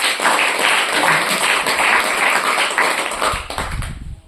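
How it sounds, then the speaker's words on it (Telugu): A church congregation claps loudly and steadily together, a dense wash of many hands that fades out after about three and a half seconds, then a voice begins speaking. "కొట్టని చప్పట్లు గట్టిగా."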